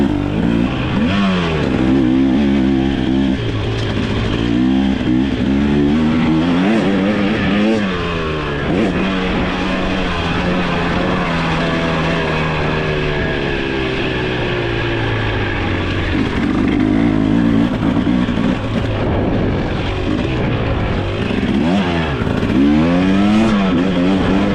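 A 2023 KTM 300 XC TBI two-stroke dirt bike engine rides a turn track in third gear, revving loud and close throughout with rising and falling pitch as the throttle opens and closes through ruts and corners.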